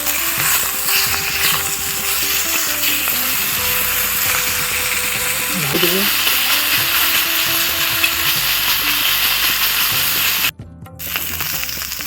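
A fish head fries in hot oil, a steady, continuous sizzle running without a break for the whole stretch, close and fairly loud, dipping briefly near the end.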